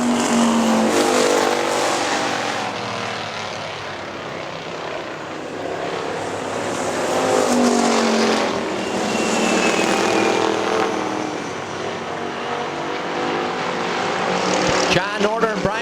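Factory stock race cars lapping Hartford Speedway Park, engines droning and swelling as the pack passes, with a public-address commentator calling positions over the continuous roar.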